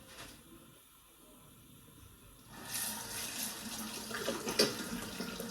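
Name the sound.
tap water running while washing hands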